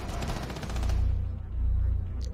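Rapid automatic gunfire in a tactical shooter video game, a loud, close burst of shots rattling in quick succession with deep booming low end that runs through the whole moment.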